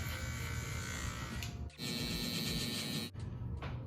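Electric hair clippers buzz steadily while cutting a bald fade, a close, faint motor whine whose pitch shifts as the blade bites into hair, broken by two short dips.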